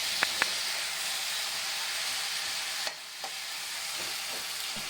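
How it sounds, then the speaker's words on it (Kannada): Tomatoes frying in a pan for a tomato paneer palya, a steady close sizzle with a few soft clicks of stirring, alone with no talk. "ಟೊಮೊಟೊ 3 ನಿಮಿಷವರೆಗೂ ಚೆನ್ನಾಗಿ ಫ್ರೈ ಮಾಡಬೇಕು"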